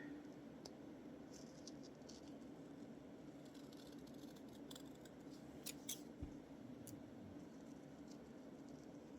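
Scissors snipping small paper images for a collage, quiet crisp cuts and light paper rustles at close range over faint background hiss, without talking.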